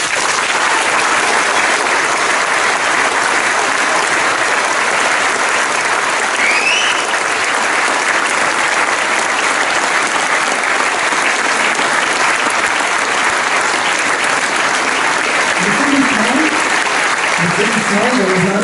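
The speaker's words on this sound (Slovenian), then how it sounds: "Zaslužijo si en velik aplavz." Sustained audience applause fills the hall after a theatre premiere, dense and even clapping from a large crowd lasting throughout, with a voice speaking near the end.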